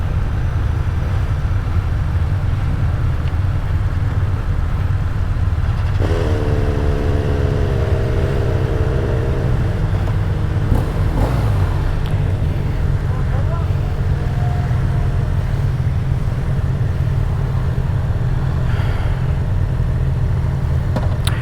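A 2026 BMW R 12 S retro sport motorcycle is ridden, its engine a steady low drone under heavy wind noise, with a brief rise in revs partway through.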